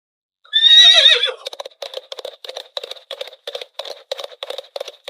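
A horse gives a loud, wavering whinny up close, followed by a steady, rhythmic run of galloping hoofbeats, like a film sound effect, with no talk.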